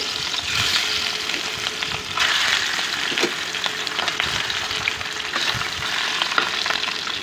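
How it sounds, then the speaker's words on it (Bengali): Hilsa fish pieces rubbed with turmeric and salt fry in a frying pan over medium heat, giving a constant close sizzle with occasional louder crackles and stirring bumps. "এখন মাছগুলো একটু ভালোভাবে ভেজে নিতে হবে"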